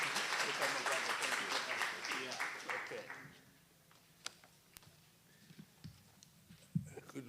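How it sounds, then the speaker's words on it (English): Conference audience applause for a keynote speaker rises loud and dense at first, then thins out to scattered claps and fades after about three seconds as the room quiets. "Let's give him a round of applause"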